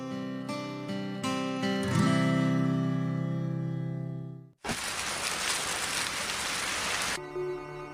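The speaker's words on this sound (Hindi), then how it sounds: "लीजिए, बारिश शुरू हो गई।" Sustained musical tones fade out, then a sudden burst of heavy, hissing rain pours down steadily for a few seconds before music returns.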